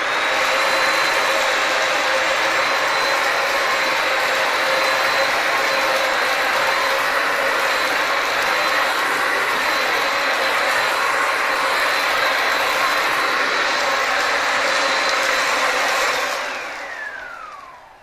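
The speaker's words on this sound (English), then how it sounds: "So we'll actually turn on the vacuum so you can hear it," Bissell Symphony Pet steam mop and vacuum running on a hardwood floor, a loud steady motor whine with a constant high tone that holds for about sixteen seconds, then winds down as it switches off.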